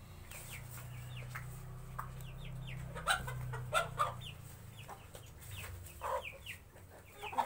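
American Silkie chickens cluck and chatter in short, repeated calls over a steady low background hum, fairly close and at moderate loudness, with no talking.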